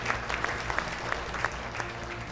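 Audience at a beauty pageant giving contestants a sustained round of applause, dense clapping with crisp individual claps standing out over a low hum.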